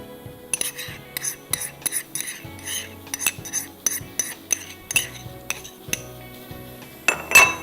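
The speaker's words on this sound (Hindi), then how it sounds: "चिली सॉस और ये टोमेटो प्यूरी मिक्स कर दीजिए।" Chili sauce and tomato puree being stirred together in a bowl, a spoon clinking and scraping against the sides in quick repeated strokes, close and clear with no talking.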